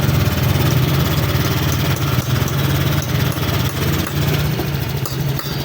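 A Honda Click 125 scooter engine runs at a steady idle, a loud continuous buzzing hum with a low droning pulse that holds unchanged for the whole stretch, no speech.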